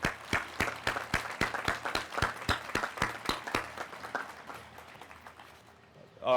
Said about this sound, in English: Let's give another round of applause for Emma and Natalia.